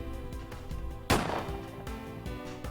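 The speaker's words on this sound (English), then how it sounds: "The loud sound of a gunshot." A single loud gunshot from the Ace Attorney Investigations video game cracks sharply partway through, ringing briefly over a steady layer of game music and dying away as the music carries on.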